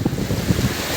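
Floodwater rushes along a road in heavy rain in Dwarka, a dense, continuous roar of moving water up close with no voices.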